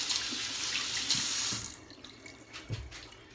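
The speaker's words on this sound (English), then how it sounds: "Just wash my hands." Hands are washed under a running kitchen tap, the water gushing steadily and nearby before it thins into softer splashes and drips.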